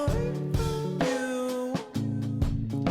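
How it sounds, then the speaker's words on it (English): Music plays with a punchy snare hitting on the beat, each crack followed by a wide, echoing reverb tail over sustained tonal notes. "the reverb on that snare."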